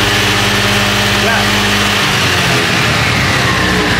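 Motorcycle engine revving hard at full throttle during an ignition pickup coil check, a loud steady roar with dense harmonics that drops off abruptly halfway through, continuing as rougher noise.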